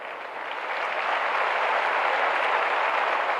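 An audience claps at a ceremony handing appointment certificates to newly recruited police, the applause swelling within the first second and then holding as a loud, even, continuous patter.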